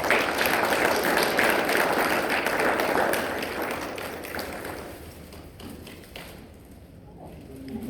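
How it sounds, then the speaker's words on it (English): A round of applause at an ensign ceremony starts full and lively, then thins out and fades over several seconds to a few scattered claps. "Let's give a round of applause for ourselves."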